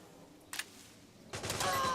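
Gunfire in the video game Metal Gear Solid 4 on PS3: a brief burst of shots around the middle, then a louder, denser volley of rapid fire near the end.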